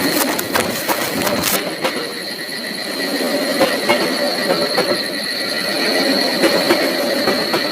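A train speeding away as a horror-story sound effect: continuous loud rumble with rhythmic wheel clatter and thin, high squealing tones, steady throughout.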